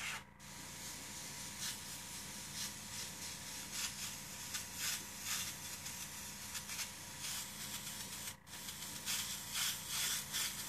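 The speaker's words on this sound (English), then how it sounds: "as you can see, this is pretty smooth the way it's spraying" Airbrush spraying brown paint at an art class gives a steady soft airy hiss with short pulsing bursts as the trigger works, plus a brief cut-off near the end.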